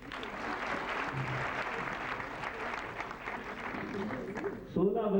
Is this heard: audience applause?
yes